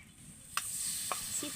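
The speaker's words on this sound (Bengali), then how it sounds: "গুড়টাকে আগে প্রথমে কড়াইতে দিয়ে গলিয়ে নেব" Date palm jaggery melts in a hot wok (kadai) for a pitha sweet. A low, faint sizzle runs throughout, broken by two or three brief scraping clicks of stirring.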